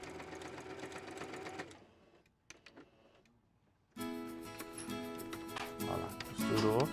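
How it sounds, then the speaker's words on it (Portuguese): Sewing machine stitching fabric for a handmade bread basket, a close, fast mechanical whir that pauses briefly and then starts again, with faint voices nearby. "Aí eu vou vir aqui na máquina. E vou fazer uma costurinha aqui."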